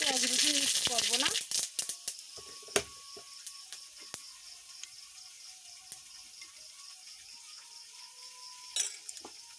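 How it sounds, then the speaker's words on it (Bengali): Panch phoron spices hit hot oil in a mushroom dish, giving a brief burst of crackling sizzle at the start that fades into sparse pops, clicks and a low hiss. "এই তেলের মধ্যে আমি 5 ফোড়ন দিয়ে দেব"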